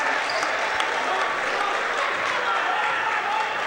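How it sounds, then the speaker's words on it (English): Crowd applause in a high school gym after a boys' basketball layup, a dense, loud, even wash of clapping that holds steady throughout. "And Coach Mott stands up and applauds that play."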